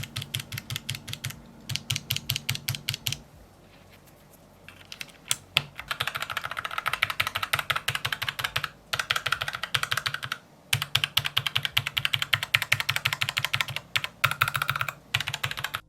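Logitech MX Keys Mechanical keyboard with low-profile tactile quiet brown-type switches being typed on, with rapid, close clacking bursts broken by a short pause, under a low steady hum.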